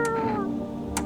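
A cat in the horror video game No I'm Not A Human lets out a short, falling meow when petted, followed by another brief, faint meow near the end.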